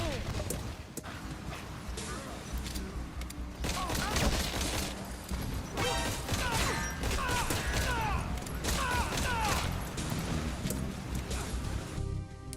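Pistol fire in Metal Gear Solid V comes as rapid strings of shots from a magazine being emptied into enemies. Game ambience and mechanical clatter run underneath, and someone talks over much of it.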